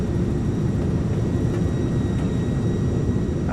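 Airliner thrust reversers roaring during a landing rollout in Microsoft Flight Simulator, a FedEx flight, heard as a loud, steady, low engine rumble with a faint whine above it and no voices.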